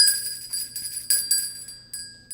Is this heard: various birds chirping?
no